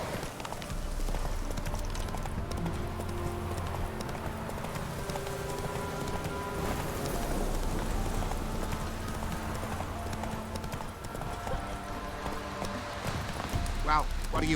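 Roach the horse gallops in The Witcher 3, steady rapid clip-clop of hooves running continuously and loud, with game music and ambient sound underneath and a voice speaking over it.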